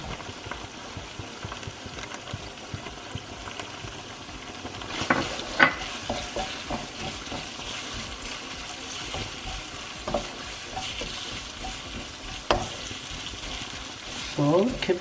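Shiitake mushrooms stir-frying in a pan, a soft continuous sizzle with scattered scrapes and clacks from stirring, faint and close, with a brief louder burst near the end.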